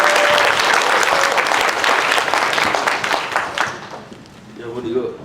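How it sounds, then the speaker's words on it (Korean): Loud audience applause fills a church evangelism seminar hall as an elder comes forward to give his testimony, dense clapping sustained for about four seconds before fading into quieter room noise. "나오실 때 큰 박수 부탁드립니다"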